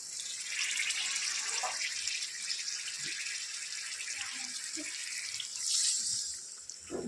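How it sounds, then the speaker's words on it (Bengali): Water poured into frying spice masala for an egg curry makes a steady, fairly loud hissing pour that runs almost the whole time, swelling briefly near the end, with no one talking. "সামান্য একটু জল দিয়ে দেবো।"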